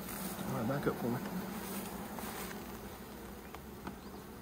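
A dense hum of honeybees around a hive with waxy honeycomb, steady and fairly quiet, with a person speaking briefly over it near the start.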